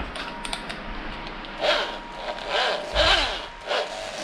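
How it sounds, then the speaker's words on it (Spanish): Angle grinder working on a car's engine bay during an E36 engine swap project, cutting out a spot weld, heard as several short, harsh bursts of grinding against metal with quiet gaps in between. "Y ahora con la radial desbastamos ahí."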